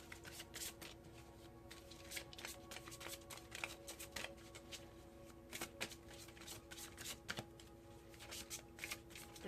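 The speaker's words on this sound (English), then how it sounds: "I'm going to pull an oracle card from the top and the bottom from Miracles Now by Gabrielle Bernstein." Oracle cards from the Miracles Now deck being shuffled by hand, a steady run of soft, rapid riffling and flicking strokes, close and quiet, with no talking.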